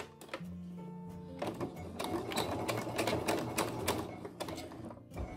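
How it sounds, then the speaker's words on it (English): A sewing machine topstitches a side seam pocket, running in steady rapid mechanical bursts with brief pauses and clicks, close and fairly quiet. "I'm going to want my top stitching to come right there."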